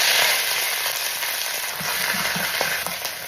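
Drumstick leaves and dried red chilies sizzle steadily in hot coconut oil, a continuous crackling hiss with a few louder pops and stirring scrapes toward the end, without any talk.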